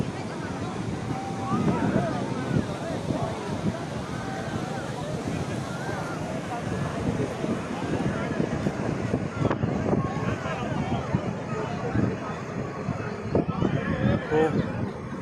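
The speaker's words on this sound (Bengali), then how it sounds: "খুব বাতাস বইতেছে" Strong wind blows near open water, with waves washing close by; a steady, gusty roar buffets the microphone throughout, loud and continuous, with no clear break.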